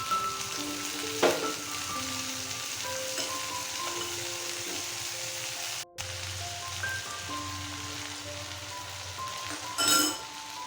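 Vegetables for a pui-mituli chorchori fry in fish oil in a pan, a steady broadband sizzle with a few sharper crackles and a brief stir scrape near the end.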